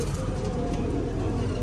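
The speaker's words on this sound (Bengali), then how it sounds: "কোকা আওয়াজ হচ্ছে কিন্তু, ওটা ওই পাশে জোড়াটা ডাকছে" Koka pigeons kept in a home loft coo in low, muffled, continuous tones, partly buried in thick background noise.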